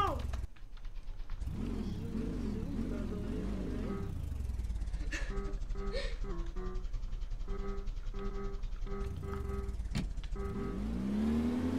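An RC car drives in the video game Brick Rigs, its whining motor rising and falling in pitch for a long continuous run with clicking key presses throughout.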